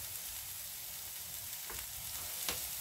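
Onions frying in a pan give a steady, close sizzle throughout, with a couple of sharper crackles near the end and no voices.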